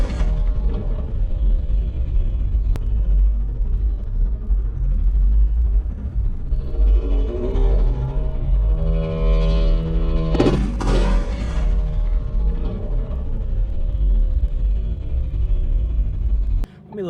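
A Ford Focus RS with an MBRP catless downpipe and ETS exhaust rumbles deeply at close range, swelling through a brief rev in the middle before settling back.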